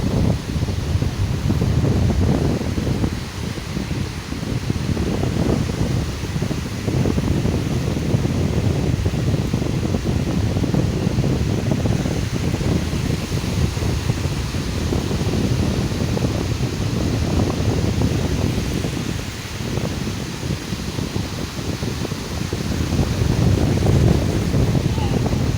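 Large waves surge and break along a beach under strong wind, a dense, steady roar of surf and gusting wind noise filling the whole stretch at close range.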